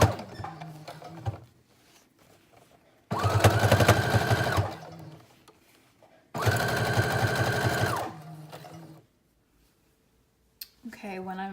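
A sewing machine top-stitches leather with a leather needle, a Teflon foot and a 3.5 stitch length. It runs in two steady, rattling bursts of about a second and a half each, with quieter talk and handling sounds between them.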